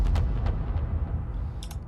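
A hard techno kick drum soaked in heavy reverb thumps in a few deep, booming hits whose long washy tails blur into a dark rumble.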